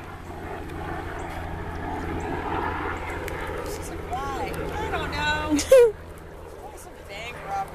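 A helicopter engine drones steadily in the distance overhead while people talk nearby, and a small dog yelps briefly near the end.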